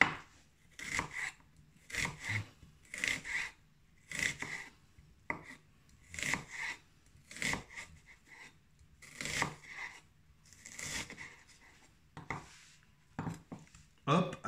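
A knife slicing an onion on a cutting board: about a dozen crisp, evenly spaced chopping strokes, close and fairly quiet, with a little low background between cuts.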